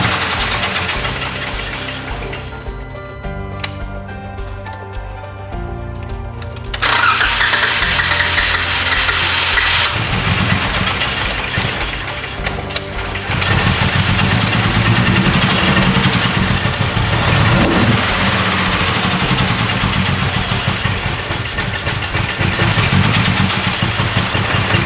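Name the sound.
car engine starting and running after intake manifold repair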